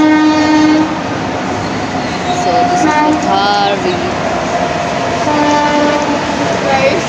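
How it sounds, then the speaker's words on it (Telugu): A train rumbles past loudly with a steady roar and clatter, its horn sounding in long tones while a person speaks briefly over it. "ట్రైన్ రాచి అక్కడే ట్రైన్ ఉంది, ఇదో పోతుంది గైస్"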